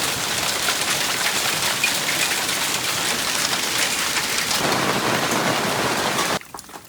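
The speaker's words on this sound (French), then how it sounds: "nouvel orage de grêle, encore." Hail hammers a barn roof during a storm, a dense, loud, steady clatter of impacts that continues for several seconds before cutting off abruptly near the end.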